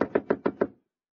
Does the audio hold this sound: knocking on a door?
yes